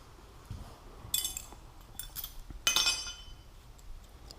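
Metal bolts being handled clink together in a few sharp, bright bursts spaced out over a few seconds, close up against quiet background.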